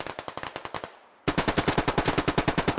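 Loud automatic gunfire in the SquadOps combat game comes in two rapid bursts of evenly spaced shots, the first tailing off into a short gap before the second, longer burst.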